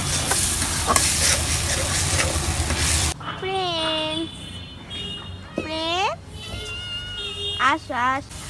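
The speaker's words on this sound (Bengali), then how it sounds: "আমি এখন মশলাটা একটু ভেজে নিচ্ছি।" Spice paste of ginger and garlic paste stirred and fried in a pan, a steady broadband sizzle and scraping through the first few seconds, then quieter frying under a higher, voice-like calling sound.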